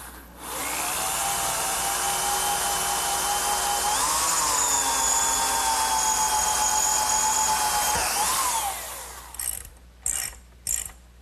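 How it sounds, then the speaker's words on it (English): A power drill with a 1/4 inch bit bores holes through wood for a garden chair, a loud steady whining motor run of several seconds that dips in pitch under load, followed by a few short bursts. "Now I'll just drill the holes using a 1/4 inch drill bit."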